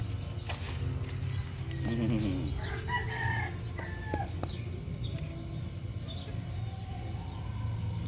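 Chickens cluck and a rooster crows at moderate distance over a steady outdoor hum, with a few short calls scattered through and faint voices in the background.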